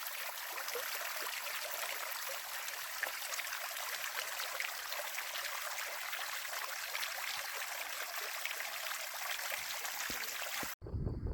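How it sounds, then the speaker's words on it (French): A small waterfall on a hiking trail through the Quercy blanc countryside rushes in a steady, dense hiss of falling water that carries on unbroken, close and fairly loud, with no voices. "Une petite cascade."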